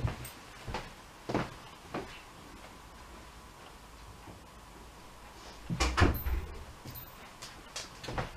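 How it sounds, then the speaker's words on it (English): Several soft knocks and clunks spread through the stretch as a door is pushed shut, the firmest thump landing near the end, heard close but quiet in a calm room with no talking. "I'm going to shut the door because Daisy's at the window"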